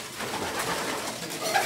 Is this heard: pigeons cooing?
yes